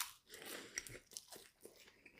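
Burger King jalapeño cheesy bites are bitten and chewed up close, soft crunches and wet chewing noises in a quiet, irregular rhythm with no talking.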